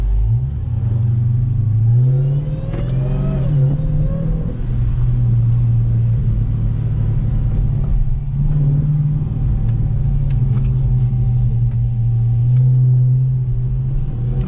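A Dodge Hellcat in sport mode gives a loud, deep engine rumble, rising through a rev near the start and then holding a steady heavy drone with faint crackling.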